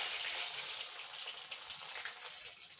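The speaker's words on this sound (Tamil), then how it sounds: "பூண்டை வறுத்துக்கோங்க" Garlic frying in oil on a stove on low heat makes a soft, hissing sizzle that starts a bit stronger and settles into a faint, even crackle, no talk.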